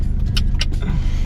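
A car driving in rain gives a steady low engine and road rumble from inside the cabin, with a couple of brief soft clicks or rattles over it and no voices.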